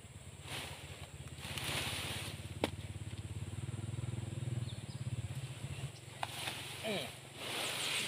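An old, worn motorcycle engine idles steadily with a low rumbling chug, used for hauling wood leaves outdoors, while people's voices and wind noise sit around it.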